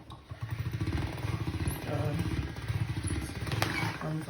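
A hand-cranked pasta machine rolls homemade pasta dough through its rollers, giving a close, steady rhythmic grinding clatter that runs nearly the whole time.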